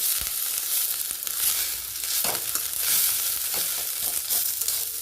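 Ingredients for green puliyodarai sauté in a hot pan with a steady frying hiss, punctuated by occasional scraping and stirring clicks.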